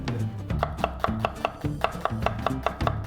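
A knife chops half an onion on a cutting board for a Korean home-cooked ramen dish, a steady run of crisp close taps, around a dozen even strikes in quick rhythm.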